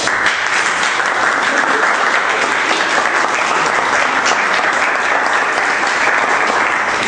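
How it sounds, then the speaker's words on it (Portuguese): A large audience bursts into dense, sustained applause to welcome a speaker at a seminar, a loud continuous wash of clapping that holds evenly throughout. "Receba com aplausos o nosso querido Frederick Taylor."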